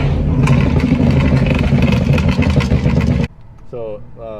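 A 2017 BMW 340i with a B58 engine and upgraded catback exhaust blasts out a rapid string of loud, sharp exhaust pops and crackles, then drops away to a lower rumble as a voice starts.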